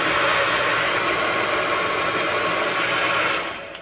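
Hair dryer on high heat and high volume, blowing out natural hair: a loud, steady, close roar of rushing air that holds constant, then dips slightly as it shuts off at the end.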